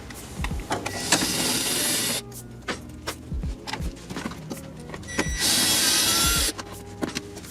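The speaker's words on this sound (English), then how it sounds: "we're going to be using a 90-degree angle for our drill bit here" A cordless drill fitted with a 90-degree angle attachment spins out bolts behind the radio of a 2013-2017 Honda Accord, giving two loud, sustained whirring bursts separated by clicks and clatter.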